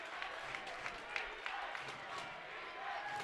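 Crowd noise at a college basketball game, a low murmur with scattered clapping and small cheers beneath ongoing talk.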